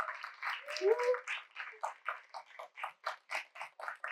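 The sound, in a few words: audience applause for podcast panelists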